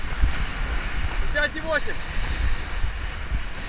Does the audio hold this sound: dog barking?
no